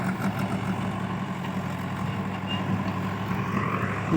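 A tractor's engine rumbles low and steady nearby as it pulls up in a village setting, a continuous heavy drone with no voices over it.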